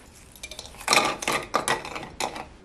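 Golden round crackers dropping into a mini food processor bowl, a handful of hard clattering knocks against plastic in quick irregular bursts, close and fairly loud with no talk.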